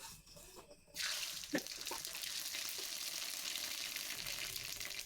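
Mustard seeds splutter and crackle in hot oil for a red taro leaf dish, a dense, steady spitting hiss that starts abruptly after a quiet second and carries on close by with scattered pops.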